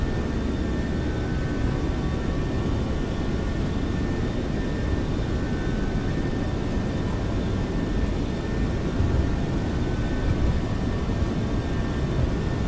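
Boeing 737-700 jet engines at takeoff thrust in X-Plane 12, a steady, loud, continuous roar with faint high whine tones, running unbroken throughout with no talk.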